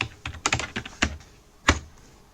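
Typing on a PC computer keyboard, a quick irregular run of sharp key clicks close by, ending after a short gap with one louder isolated keystroke.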